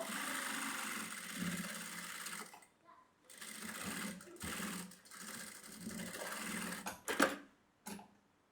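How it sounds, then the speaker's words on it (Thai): A Shunfa A6-T2 industrial sewing machine stitching slowly through thick material whirs in short runs of a few seconds separated by brief pauses, with a couple of quick ticking stops near the end. "ผมเย็บแบบสโล โดยไม่ต้องไปหมุนวงล้อ"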